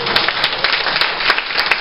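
Congregation applause at a church service rings out as a short burst of mixed clapping, loud and close, with sharp individual claps standing out near the end.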